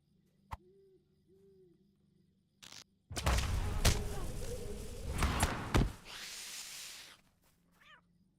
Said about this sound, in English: The sound of the kitty cats are so cute.